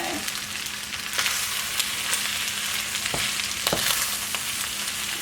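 Fried rice sizzles steadily in a hot pan, with sharp scraping clicks from stirring breaking through the frying hiss every second or so, close and alone with no talking.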